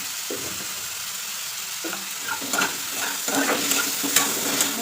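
Mixed vegetables fry with cumin seeds in hot oil, giving a steady close sizzle broken by scraping stirs that grow busier toward the end, with no talking.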